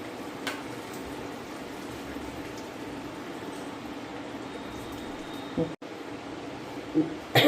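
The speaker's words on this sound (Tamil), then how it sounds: "இந்த சாம்பார் நல்லா கொதிக்க வச்சுக்கோங்க." Sambar with lentils simmers in a pot, giving a steady, soft bubbling hiss that runs throughout, with a couple of brief clatters near the end.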